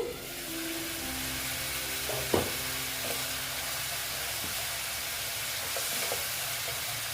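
Spice masala for a katla fish kalia sizzles quietly in a pan, with a soft steady hiss and a few light clinks and scrapes of a spoon as it is stirred.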